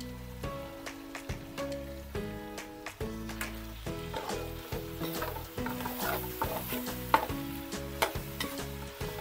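Pancit canton is stirred with soy sauce in a sizzling pan, with steady frying hiss and irregular scraping strokes throughout. A musical tone runs underneath, and nobody speaks.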